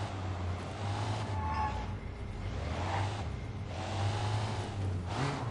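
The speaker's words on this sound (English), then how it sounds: "Keep the engine running." A car engine idles and hums in the video game Sleeping Dogs, a steady low rumble with gentle swells in revving, close and continuous under faint background ambience.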